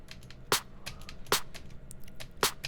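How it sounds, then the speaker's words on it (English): A custom-made snare drum sample is layered over a drum break. Three sharp, bright snare hits land about a second apart over a faint, busy rhythmic bed of quieter percussion, and no one speaks. "snare sample that I made"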